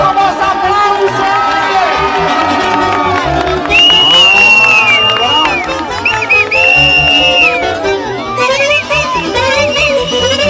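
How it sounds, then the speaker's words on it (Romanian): Wedding guests at a Romanian celebration applaud and cheer loudly and continuously, with whoops and whistle-like calls rising over a dense crowd hubbub and shouted voices. "Vă rog frumos aplauze!"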